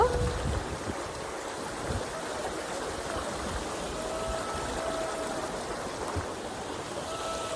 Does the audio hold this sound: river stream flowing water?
yes